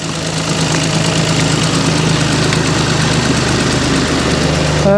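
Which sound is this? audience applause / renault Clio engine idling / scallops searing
renault Clio engine idling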